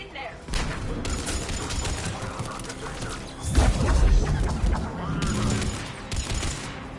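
Gunfire crackles around a checkpoint in Mass Effect 3, with bursts and impacts running through a busy, loud battle mix while voices talk over it.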